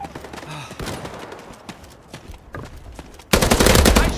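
Rapid gunfire cracks through a Battalion 1944 multiplayer match in a series of sharp shots, building into a loud, sustained burst of automatic fire at the end.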